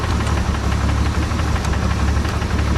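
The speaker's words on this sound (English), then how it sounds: "you guys might remember this engine always had a knocking noise" An 8hp Johnson outboard engine that has sat unused since the 1990s runs with a persistent knocking, its worn timing chain or rod bearing giving a fast, steady, loud mechanical clatter over a low hum.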